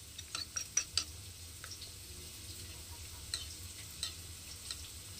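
Cumin and turmeric powder stirred into a spice mixture for a vegetable and katla fish curry, quiet and close, with a few sharp spoon clicks at the start and sparse taps later over a low hum.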